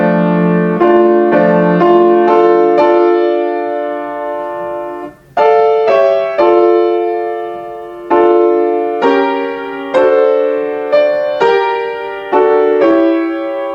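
Dark minor-key theme built on the American national anthem, played on piano as a solo line of clear sustained notes, some overlapping with chords, in a slow, measured melody with no talking.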